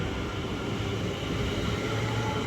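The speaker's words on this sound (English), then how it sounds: "That's Trio West Midlands Railways Class 730 up to Euston from Milton Keynes." A West Midlands Railway Class 730 electric multiple unit, in three-car Trio formation heading to London Euston, moves through Milton Keynes Central on the West Coast Main Line. It gives a steady, loud rolling rumble with no voices.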